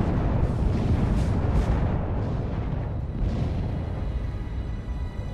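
Dense, continuous battlefield gunfire and artillery in the Order of War strategy game, a loud, steady rumble of booms and shots with no clear breaks between them.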